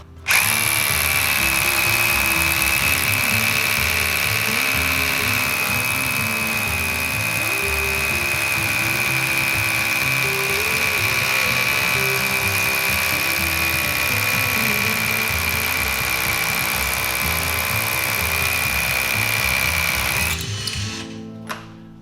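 Makita rotary hammer drilling with a 12 mm bit, a loud steady whining drone held for about twenty seconds before stopping abruptly, close and alone.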